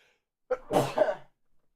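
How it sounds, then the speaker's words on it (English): A single close sneeze, a quick sharp intake followed by a breathy burst lasting under a second, with quiet before and after. "I thought I was just about to sneeze."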